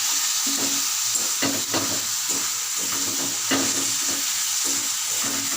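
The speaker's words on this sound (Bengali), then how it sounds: "পেস্টটা দিয়ে আমি কিছুক্ষণ এর মধ্যে এটা নাড়াচাড়া করে নেব" Ginger-garlic paste is stirred in hot oil in a frying pan for jackfruit curry, giving a steady close sizzle broken by repeated scraping strokes of the spatula at an uneven rhythm.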